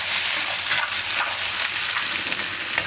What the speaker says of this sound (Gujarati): હિંગ નાખીશું અને મરચાં અને લસણ. થોડીક વાર આ રીતે ફેરવી લેવાનું